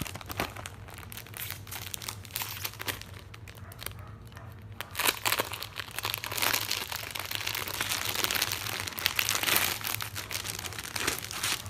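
A crinkly plastic package of planner stickers crackles and rustles continuously as it is worked open, close to the listener, with the handling growing busier toward the end.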